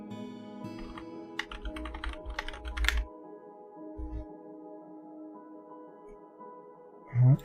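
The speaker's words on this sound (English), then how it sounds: "The sound of this keyboard is quite nice." Computer keyboard typing while playing Dwarf Fortress: bursts of quick, close clicks in uneven clusters, then a pause and a few more keystrokes, over quiet background game music.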